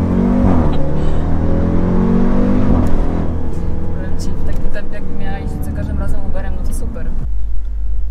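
A 755-horsepower Jeep Trackhawk surges forward under hard acceleration, its engine roaring loud and close inside the cabin while people talk over it.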